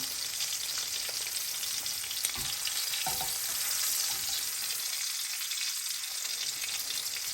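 Salmon sizzling steadily in a hot pan of oil, a loud continuous hiss of frying with a few brief stirring clicks and scrapes, no voices.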